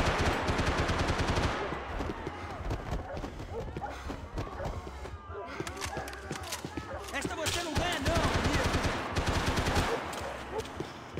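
Rapid gunfire bursts and scattered shots from the action game Max Payne 3 crackle through a city street scene, mixed with game voices and ambient noise, with dense firing early that thins out later.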